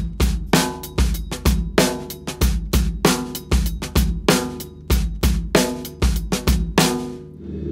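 Acoustic drum kit playing the groove for a song, with punchy bass drum hits and crashing cymbals in a repeating syncopated pattern, loud and close, each stroke ringing briefly before the next.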